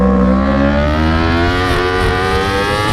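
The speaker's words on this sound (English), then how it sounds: "I put the bike straight and full gas." A motorbike engine in the racing video game Racing Is Life 2019 screams at full throttle, its pitch climbing steadily and dipping briefly as it shifts, loud and close with no talk.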